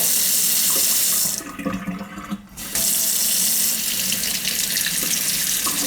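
Water runs hard from a kitchen sink faucet whose handles are broken, a loud steady rushing stream that briefly drops to a softer trickle and then returns at full flow.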